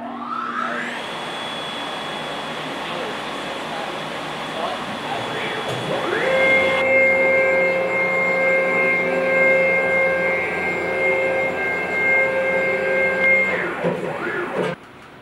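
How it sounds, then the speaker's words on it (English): Large vacuum fan on a 2013 MultiCam 1000 5x10-foot CNC router table pulling air through an MDF spoilboard, a loud, steady whooshing roar with a sustained whine that shifts pitch partway through, with brief talk in the background. "that's actually basically a huge vacuum fan that pulls through the MDF"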